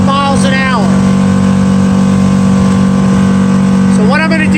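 A 2003 Scout 235 Sportfish center console boat runs at about 5,600 RPM and 34 to 35 mph, its engine a loud, steady, close droning roar while someone talks over it at the start and end.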